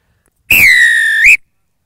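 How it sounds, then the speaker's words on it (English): A referee's whistle at a rugby union match of the 2019 Cross Border Series gives one loud, sustained blast of nearly a second that lifts in pitch just before it cuts off, heard alone. "Okay, kicker on my whistle."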